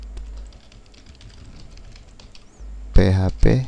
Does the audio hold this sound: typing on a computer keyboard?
yes